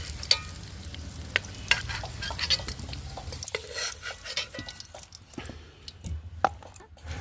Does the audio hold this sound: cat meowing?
no